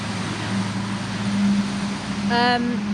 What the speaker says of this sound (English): Excuse that really noisy lorry that's just about to go past.